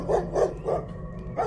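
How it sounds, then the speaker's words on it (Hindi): A dog barking sharply as a horror-story sound effect: four loud, evenly spaced barks close to the listener, with a short gap before the last one. "वहां कुत्तों के जोर जोर से भौंकने की आवाजें आने लगी"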